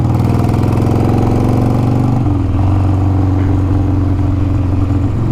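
A 1999 Harley-Davidson Sportster 883 motorcycle engine runs steadily close by, a loud, throbbing idle that shifts to a slightly different pitch partway through and holds there, with no voices.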